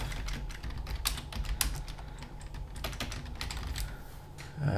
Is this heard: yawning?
no